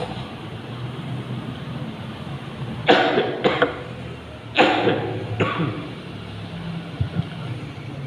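Two short, sharp coughs from a man giving a religious talk, each a quick double burst, heard fairly close against a steady low room hum.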